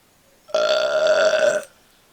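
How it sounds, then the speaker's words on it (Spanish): A single loud, deliberate human burp lasts about a second, starting abruptly and cutting off cleanly in otherwise quiet surroundings. "He podido hacer un eructo porque el yo ha decidido hacerlo."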